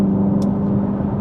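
Hyundai Ioniq 5 N performance car's engine sound, a steady loud low hum and whir running throughout with a brief faint high chirp partway through.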